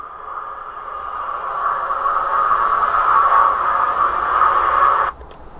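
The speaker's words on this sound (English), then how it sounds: "82 is an aircraft overhead" Aircraft passing overhead from a Gaugemaster Scenic model railway sound module, a steady loud whooshing roar that holds and swells slightly before cutting off abruptly near the end.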